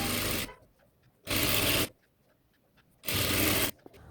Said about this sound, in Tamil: இப்போ இந்த ஓரத்தில் ஒரு ஸ்டிச் பண்ணிக்கிறேன்.